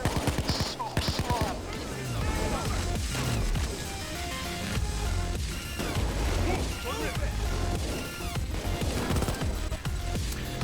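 Rapid bursts of submachine-gun fire from an Uzi in the video game Payday 2, loud and dense over a chaotic mix of game sounds, with a voice talking through parts of it.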